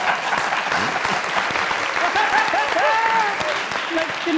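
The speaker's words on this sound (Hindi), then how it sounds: "पहली बात तो ये कि मस्ताना साहब के रिएक्शन पे तालियां" Lively studio audience applause on a comedy talk show, steady dense clapping throughout with faint whoops or cheers rising briefly near the end.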